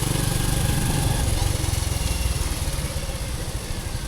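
A Honda Wave motorcycle engine running while ridden in rural Thailand, a steady close buzzing putter with fast regular pulses that stay loud throughout.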